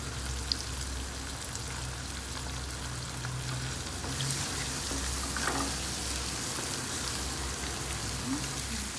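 An egg frying in a pan for Indonesian kampung fried rice, a steady close sizzle and crackle that keeps going throughout, with a few faint clinks.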